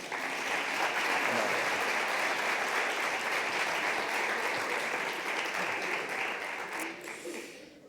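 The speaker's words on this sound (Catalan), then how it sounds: "Podeu aplaudir." Audience applause at a presentation event on mental health, sustained even clapping from a seated crowd that fades out near the end.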